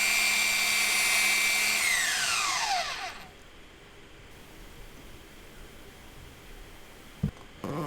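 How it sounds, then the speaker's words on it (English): A power sander runs loud and close against a homemade polyurethane brake pad, then winds down in a falling whine and stops. Quiet follows, broken by a brief knock. "so I do a little bit of sanding to fix that."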